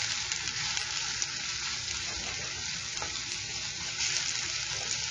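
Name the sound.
garlic and onions frying for tacos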